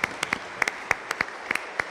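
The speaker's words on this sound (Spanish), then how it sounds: "Un aplauso." Scattered hand claps during a church Mass, a dozen or so sharp, irregular claps from a small group, thin rather than a full roaring applause.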